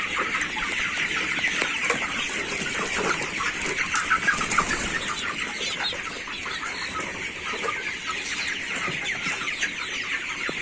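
Broiler chickens ready for sale in a poultry shed, a dense chorus of continuous clucking and chirping from many birds, close and steady, with occasional wing flutters.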